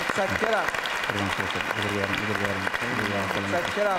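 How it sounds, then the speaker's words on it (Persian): Studio audience on a TV talk show applauds a departing guest, a dense, steady clatter of clapping throughout while a host speaks over it. "تشویقشون بکنید"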